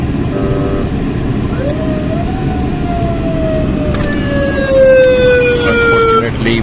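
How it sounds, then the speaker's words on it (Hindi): An ambulance siren in traffic behind a car, a long slowly falling wail, then faster repeating sweeps that grow louder and nearer over a steady road and engine rumble. "पीछे एम्बुलेंस भी है"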